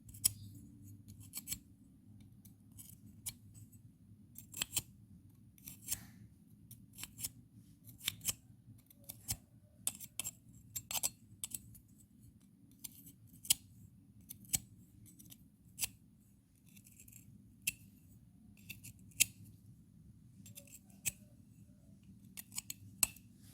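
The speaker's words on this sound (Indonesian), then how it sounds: "Pembersihan kerak harus hati-hati ya guys, biar tangan tidak kena gunting." Scissors scrape carbon crust off a clogged gas stove burner in short, sharp, irregular scratches and clicks over a low background hum, close and steady, with no talking.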